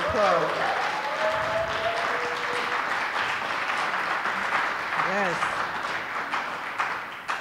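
An audience at an arts and economic development panel applauds steadily for the Ko-Thi Dance Company's 50th anniversary, a full wash of clapping with a voice briefly rising over it at the start and again midway.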